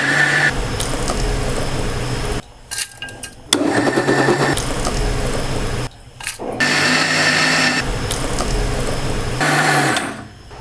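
A kitchen mixer grinder whirring loudly while grinding soaked lentil batter for millet dosa, running in long high-pitched bursts that stop abruptly twice for short pauses before starting up again.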